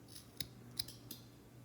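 Scissors snip through the trimmed string ends of a handmade wood bead ornament, three crisp close cuts spaced evenly apart over a quiet room.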